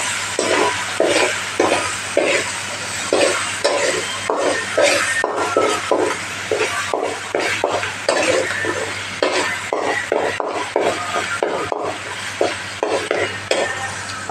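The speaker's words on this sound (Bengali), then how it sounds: "আর এই জিনিসটা যখন ভাজবেন না, তখন খালি লাড়তে থাকবেন, না হলে কিন্তু ফুটবে।" Chicken legs fry in a pan with a soft sizzle while a utensil stirs and scrapes the pan in quick repeated strokes, a steady rhythmic clatter close by.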